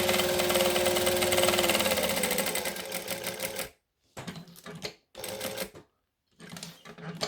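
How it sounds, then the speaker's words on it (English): A sewing machine stitches down the end of a fabric clutch: one long continuous whir that fades, followed by several short stop-start bursts with silences between, close up and with no talking. "I'm going to sew down the end."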